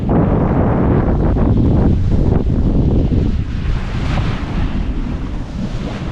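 Sailboat reaching across a bouncy ocean with one reef in the sail, about 80 degrees off the wind; loud, steady wind roar buffets the microphone over a continuous wash of waves against the hull, with no talking.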